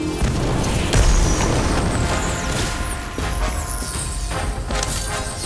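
Incendio fire spell cast in a Harry Potter video game, a loud, dense burst of roaring, crackling effect noise that holds steady for several seconds with a few sharper pops along the way.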